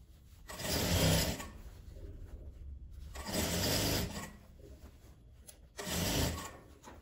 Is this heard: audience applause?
no